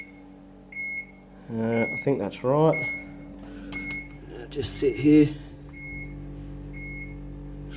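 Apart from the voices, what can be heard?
Samsung fridge control panel beeping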